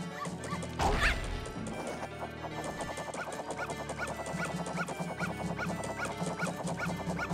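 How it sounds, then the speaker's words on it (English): A dog in The Legend of Zelda: Majora's Mask barks over and over in a quick, steady rhythm. A sharp crash comes early, and the yapping then carries on persistently. "Can this flippin' dog stop barking?"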